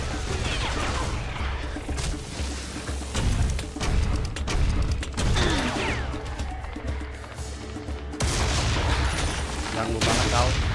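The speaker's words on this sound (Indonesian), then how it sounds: "Dia nembak." Enemy gunfire in the Serious Sam 3 shooter game, loud and continuous, with dense blasts, crashes and booming impacts packed together for the whole stretch and hardly a pause.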